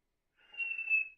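A single sustained human whistle, a clear steady pure tone lasting under a second. It is fairly quiet, heard alone after a short silence, in a school algebra classroom.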